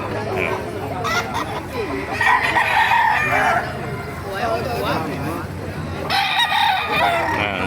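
Roosters crow repeatedly and hens cluck nearby at a chicken market in Baliuag, Bulacan, with people chatting over the flock throughout.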